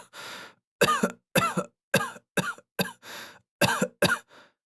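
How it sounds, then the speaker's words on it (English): A person coughs repeatedly, nine or ten dry, close hacking bursts in an uneven rhythm, with a couple of longer rasping throat-clearing sounds between them, in a quiet setting with no talk. "How long have you had that cough?"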